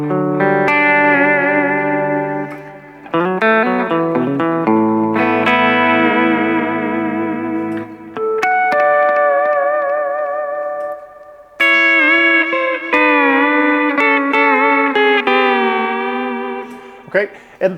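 Pedal steel guitar on a clean patch with delay through a Bassman amp model, playing sustained, gliding chords and slow swells with echoing tails for about eighteen seconds, loud and close with no talking.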